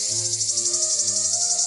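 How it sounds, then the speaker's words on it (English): A male cicada's mating call: a continuous high, buzzing insect drone pulses steadily and loud, with a faint low tone running underneath. "It somehow manipulates infected male cicadas into changing their mating call, which normally sounds like this"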